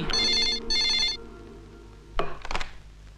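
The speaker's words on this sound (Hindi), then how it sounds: "यहाँ से फोन उठा वहाँ घंटी बजी" Two short bursts of an electronic telephone ring trill close by, followed by a pause and a few sharp clattering knocks.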